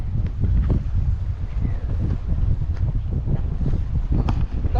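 Strong sea wind buffets the microphone in a constant low roar on the Bangol crags at Agno, Pangasinan, with a faint watery wash beneath it.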